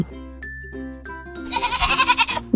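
A goat bleats close and loud: a few clear, wavering tonal calls, then a longer, harsher bleat that rises and falls in pulses.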